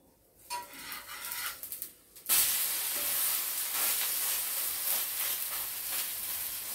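Moong dal adai cooking on a pan over a low flame: a few clinks and scrapes, then a sudden steady hissing sizzle that carries on evenly.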